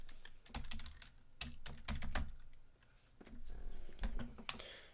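Rapid clattering keystrokes on a computer keyboard at a crypto and stock trading desk, bursts of clicks with short pauses, close and fairly loud with no talking.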